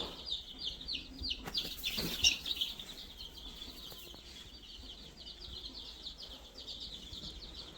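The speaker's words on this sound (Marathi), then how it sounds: "कोंबडीची पिल्लं" Busy high-pitched chirping from a group of ten-day-old chicken chicks, steady throughout, with a brief louder burst of activity near the start and faint background noise.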